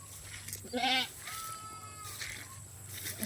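Goats bleat on a farm with one clear, wavering close call followed by a fainter, thinner bleat, over low background noise.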